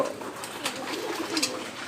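Pigeons cooing softly while pecking at grit, a few low murmured coos close by over a faint background.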